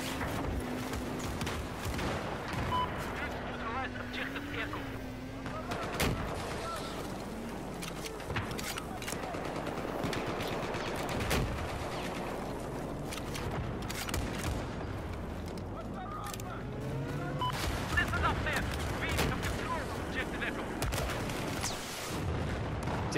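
Gunfire and booms from the video game Battlefield 4, played in a blizzard with an SR-338 rifle: steady rumbling combat noise with repeated sharp shots and blasts throughout, while a voice is heard at times over it.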